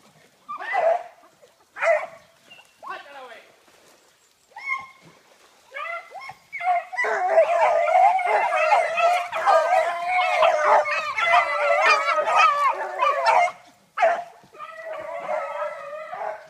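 Beagles on a hunting chase in France give barking and yelping calls, short scattered yaps at first, then a dense sustained chorus of howling bays from several dogs at mid distance, fading into intermittent yelps.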